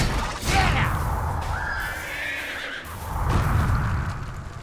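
A horse in the video game Brütal Legend lets out a loud, wavering neigh over a rough, noisy background, with muffled thuds before and after.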